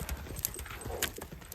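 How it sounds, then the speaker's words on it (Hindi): A strong horse's hooves clip-clop nearby in a quick, uneven series of sharp knocks, moderately quiet over low background noise. "मजबूत घोड़ा आता है ये मजबूत"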